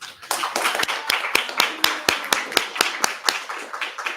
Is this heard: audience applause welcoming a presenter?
yes